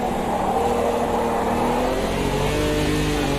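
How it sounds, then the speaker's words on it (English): A race car engine in Automobilista 2 drones loudly and steadily with a gurgling, burbling tone, holding near-constant revs throughout without talk over it. "I love the way this engine gurgles."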